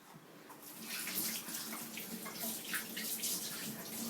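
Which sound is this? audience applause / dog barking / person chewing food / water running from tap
water running from tap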